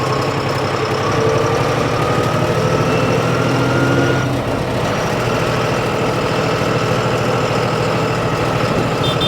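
A John Deere diesel tractor engine idles steadily and loudly at close range, a continuous low rumble with even throbbing and no voices.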